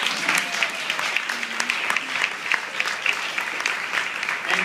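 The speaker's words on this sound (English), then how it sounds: "So why don't we give a round of applause for our helpers?" At a presentation by a film director, an audience gives a round of applause for the helpers, a loud, dense and steady crowd clapping that fills the whole stretch, with faint voices murmuring underneath.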